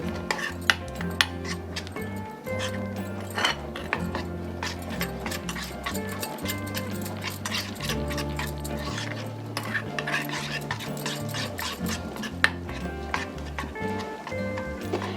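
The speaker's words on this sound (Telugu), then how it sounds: "కొంచెం వాటర్ వేసుకుని శనగపిండిని ఉండలు లేకుండా కలుపుకోవాలి" Gram flour and water are stirred in a bowl to a lump-free batter, a quick rhythmic scraping and clinking that runs continuously and close up.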